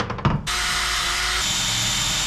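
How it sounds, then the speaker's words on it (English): A spinning wire wheel cleans a bushcraft hatchet head, a steady loud whirring grind that starts after a few brief scratchy contacts and holds on continuously, with no talk over it. "Well, that one's all cleaned up with the wire wheel."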